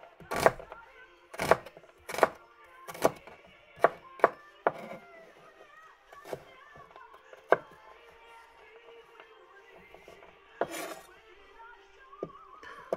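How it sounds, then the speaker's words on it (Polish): Knife chopping herring into pieces on a board, a series of sharp, close, distinct cuts with uneven gaps between them and a few quieter knocks in between. "I teraz kroimy. Nie jakoś taką kostkę bardzo poważną."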